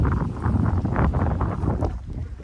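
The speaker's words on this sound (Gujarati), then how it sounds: "પવન બહુ છે" Strong outdoor wind buffets the microphone in heavy, continuous low rumbling gusts that swell and ease, loud and close, with no voices.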